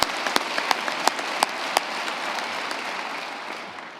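Audience applause at a high school graduation ceremony: dense, steady clapping from a large crowd with a few sharper individual claps standing out, gradually fading toward the end.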